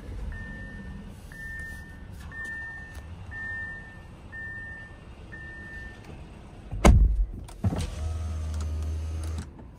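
A 2023 Audi Q5 S-Line sounds a series of repeated cabin chimes, then a push-button start brings a sudden loud engine crank and catch that settles into a steady low idle.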